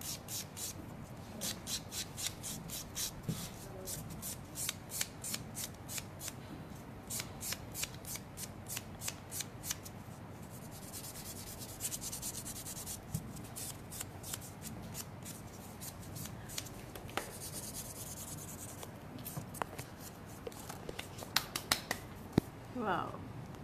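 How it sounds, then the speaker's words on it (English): A nail buffer rubs across fingernails in repeated short downward strokes during a jelly builder manicure, soft rhythmic scratching up close while people talk in the background. "now let's go in with the buffer. Always in a downward direction, okay?"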